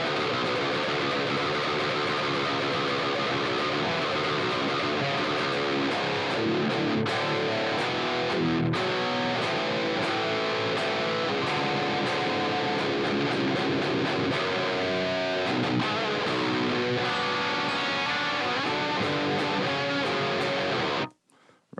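High-gain electric guitar rhythm playing through a Horizon Devices drive pedal in a Line 6 Helix, tight distorted chugs and chords loud and continuous for about twenty seconds, then cutting off abruptly.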